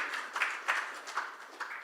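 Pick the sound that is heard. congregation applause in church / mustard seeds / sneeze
congregation applause in church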